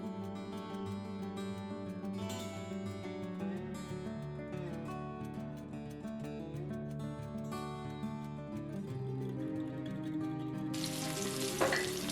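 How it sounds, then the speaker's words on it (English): Onions fry in olive oil with a pinch of salt in a small pan, giving a steady, continuous sizzle that stays up close and fairly loud throughout, with no talking. "Small pan, add olive oil, onions, pinch of salt and fry."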